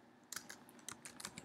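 Quiet, close typing on a computer keyboard: a quick run of light key clicks in an irregular rhythm over faint background hiss.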